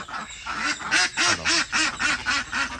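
Ducks quack in a rapid, steady run of about eight nasal calls, close and fairly loud, with no talking over them.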